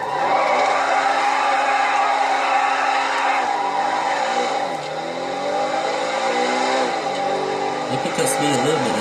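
A Bugatti hypercar accelerates with a loud, sustained engine drone that climbs and shifts in pitch, dipping briefly midway before building again, with a voice talking over it.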